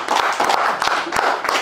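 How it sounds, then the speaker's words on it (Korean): An audience at a Korean Confucian culture seminar claps for two award winners, a short burst of steady overlapping applause with distinct individual claps. "그래갖고 이번에 특선 두 분 하셨는데 박수는 한번 보내드려요"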